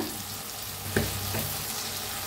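Onion and tomato fry in a pan for a spiced sprouted moth bean curry, a steady soft sizzle running throughout, with a brief spoon clink near the middle.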